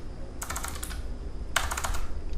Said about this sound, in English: So we will just type